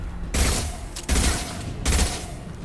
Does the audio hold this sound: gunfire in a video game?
yes